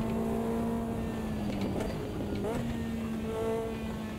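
A Lotus 620R engine revs hard in the racing game Automobilista 2, a continuous loud droning whine with pitch shifts as the car slides through oversteer on tarmac.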